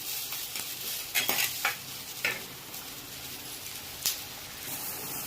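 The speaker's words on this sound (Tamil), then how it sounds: "நல்லா வதக்கிட்டு முருங்கை காட்டு வைக்கணும்" Onions and drumstick pieces sautéing in a pan, with a steady soft sizzle and occasional scraping stirs of a spatula against the pan, fairly quiet and close.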